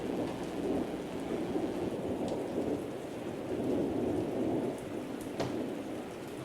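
A thunderstorm sound effect plays in a stage play, steady heavy rain hiss under a low rumble of thunder, with a couple of sharper crackling cracks; it is fairly faint and there is no talk.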